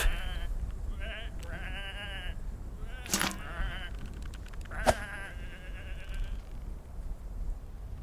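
Several sheep in a video game bleat in short wavering calls, some overlapping, with a couple of sharp clicks between them over a quiet background.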